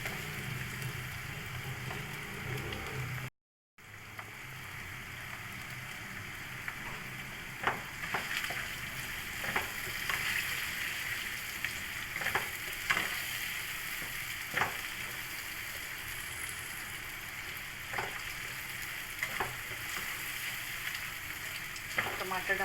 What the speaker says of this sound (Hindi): टमाटर डाल के अच्छे से फ्राई करेंगे।